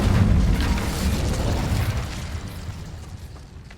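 The Incendio fire spell bursts in Hogwarts Legacy with a loud, dense whoosh and rumbling blast right at the start, then a long roar that slowly fades.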